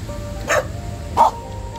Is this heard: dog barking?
yes